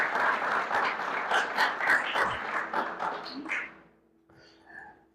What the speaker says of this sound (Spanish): Darle un aplauso a Dios.